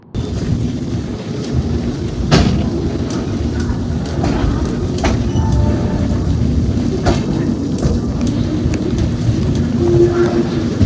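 Steady rain hisses over a low, constant rumble, with a few sharp knocks and clanks breaking through; no voices.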